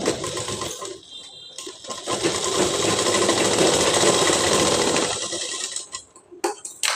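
A sewing machine runs steadily while stitching a seam on a ladies' trouser, a continuous close, loud whir that eases off briefly, then stops with a few clicks near the end.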